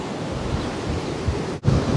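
Strong storm surf floods a city beach in Sochi, a steady loud roar of breaking waves and wind with brief swells, heard alone.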